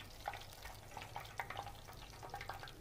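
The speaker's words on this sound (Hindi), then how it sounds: "और अब हम इसमें डालेंगे अपनी पूड़ी। और अब हम इसको फ्राई करेंगे।" Puri fried bread sizzling in hot oil over medium flame, a soft, continuous bubbling crackle with faint stirring clicks, quiet and close without any talk.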